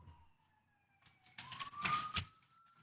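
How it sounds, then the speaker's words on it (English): An ambulance siren wails as it passes along a New York City street, its rising tone swelling louder over the rumble of traffic. "Stop ambulances, my God."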